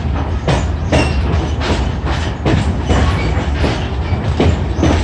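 A passenger train runs along the rail line near Leighton, its wheels clicking over rail joints in a steady rhythmic clatter under a constant low rumble. The sound is close and loud, as if heard from inside a car.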